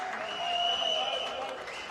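A crowd of spectators at a bowls pennant match between Raymond Terrace and East Maitland cheers and applauds in a steady wash of noise, with voices calling out over it.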